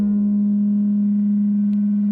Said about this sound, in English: I'm going to just play this somewhat low frequency sine wave.